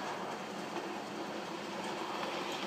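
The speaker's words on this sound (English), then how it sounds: "Nice little loco, or nice little shunter." A small N gauge shunter locomotive runs along model layout track, a faint, steady whirring rumble that continues evenly without pauses.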